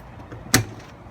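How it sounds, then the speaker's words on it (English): The door of a 2020 Wildwood 178BHS Platinum travel trailer opens with a single sharp, close latch clack against quiet background. "So, as we open up the door here,"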